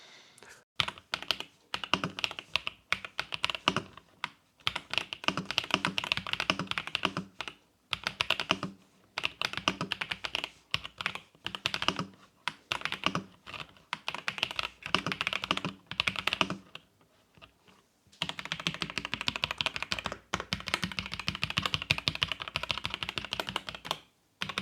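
Steady typing on a Royal Kludge S98 mechanical keyboard, a 96% layout with 99 keys, dense rapid key clacks in long runs with brief pauses, close and clear with no voices.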